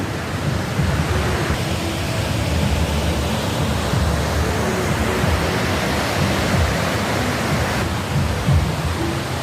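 Continuous rushing of the fast-flowing Parvati River at Kasol, Himachal Pradesh, a loud, steady churning roar with no voices.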